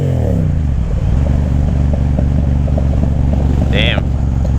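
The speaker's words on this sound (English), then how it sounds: "I'm not even doing anything right now, and the bike is burbling." A Yamaha FZ07 motorcycle idling close by, its engine a steady, throbbing burble with an even rhythm and a brief higher whine near the end.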